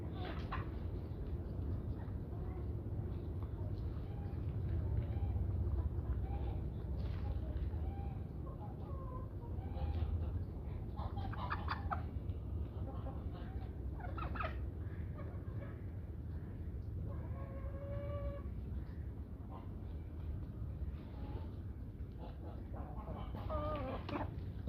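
A backyard flock of chickens pecks at shared food scraps, giving soft scattered clucks and brief higher calls over a low, steady background rumble, fairly quiet and at a middle distance.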